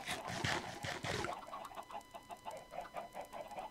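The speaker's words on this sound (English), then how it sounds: "Look at all the chickens." Chickens in a video game cluck in a quick run of short, chirpy bursts, louder at first and then a steadier, softer clucking chatter with no talk over it.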